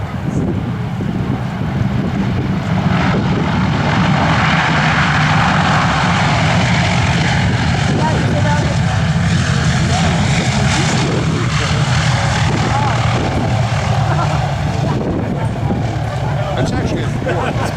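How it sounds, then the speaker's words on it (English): The B-29 Superfortress "Fifi" touching down with its propeller engines roaring, a loud, continuous engine drone mixed with wind noise at an air show demonstration. "B-29 about to touch down for his final landing of the day."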